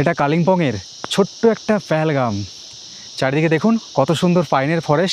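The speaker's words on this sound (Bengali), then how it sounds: "শুধু ঝিঝি পোকার ডাক।" Crickets chirp in a pine forest near Kalimpong in the Sillery Gaon hills, a continuous high, even trill that runs throughout beneath a person talking.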